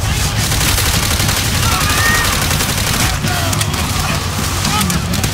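Dense gunfire from Call of Duty: World at War, with rapid overlapping rifle and machine-gun bursts filling the whole stretch amid battle noise, loud and continuous as voices shout underneath.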